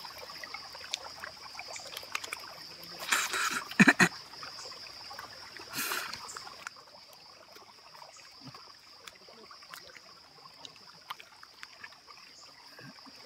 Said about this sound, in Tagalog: Nasa gitna ako ng kapahoyan na may malinis na batis.